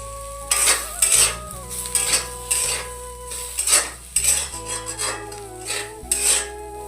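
Pots, pans and cutlery clatter and clink in a steady series of knocks and scrapes as dishes are washed at night, close and fairly loud with no voices.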